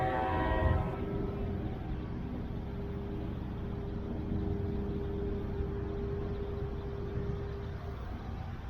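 A steady rumble of a Brightline passenger train rolling across the Crane Creek Bridge, with a sustained horn-like tone, continuous and fairly loud throughout.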